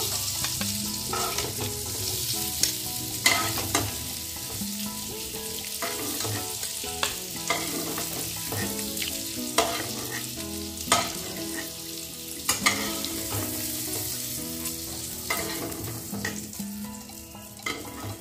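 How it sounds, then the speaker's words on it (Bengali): Potatoes frying in a pan make a steady sizzle that runs throughout, with repeated sharp clinks and scrapes as they are stirred and turned. "আলু ভাজা হয়ে গেছে, এখন তুলে নেব"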